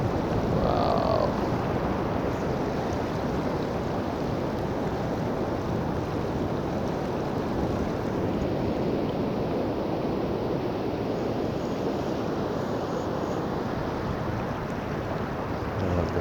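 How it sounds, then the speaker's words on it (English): Water rushing and washing at the Foz do Lizandro river mouth near Ericeira, Portugal, a loud, steady broadband roar with wind buffeting the microphone throughout. "I love the sound of water flowing."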